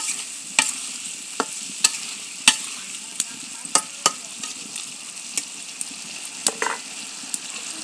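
Pabda fish curry with cauliflower stirred in a covered pan after the lid is lifted, a steady soft sizzle broken by about a dozen sharp scraping clicks of the spoon against the pan, close and alone.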